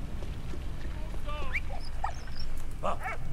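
Dog in the video game Valiant Hearts whimpering with high thin whines followed by a couple of short yelping barks near the end, heard over a low rumbling game background.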